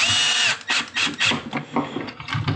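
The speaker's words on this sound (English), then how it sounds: "Now we're going to grab the drill because I'm not doing it the old-fashioned way." A compact Milwaukee power drill drives screws during assembly of a Kulp K16 build kit, with several short whirring bursts up close, each ending with a quick stop and a clicking clutch.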